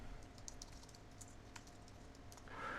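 Rapid keystrokes on a computer keyboard while a search is typed, a steady run of light clicks close by with a brief louder burst near the end.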